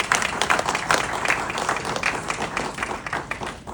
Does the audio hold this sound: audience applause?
yes